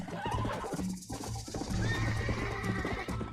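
A horse neighs loudly in the video game Red Dead Redemption, a close, shrill whinny filling the short moment, with hooves clopping underneath.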